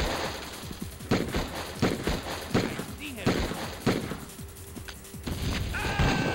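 Repeated sharp blasts and gunfire from the Die Hard Trilogy game on Saturn, a grenade going off among roughly regular loud bangs about once a second, with game voices talking over the action.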